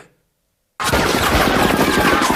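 After a short silence, a loud, sustained burst of rapid automatic gunfire erupts and continues without pause, as gunmen shoot up a family in a scene from The Punisher film.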